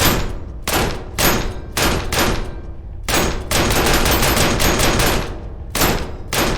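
Rapid pistol gunshots in a video game ring out in dense bursts, sharp cracks stacking into quick volleys with brief pauses between, loud and close with no talk.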